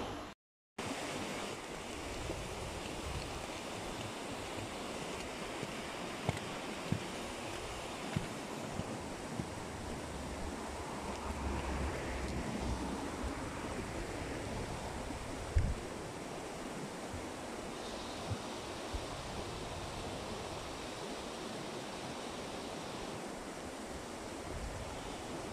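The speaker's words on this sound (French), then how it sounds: "c'est tellement relaxant d'entendre l'eau couler comme ça" A river flowing outdoors on a cold February day, heard as a steady, broad wash of rushing water that runs close and continuous for the whole stretch, with a few small knocks and no voices.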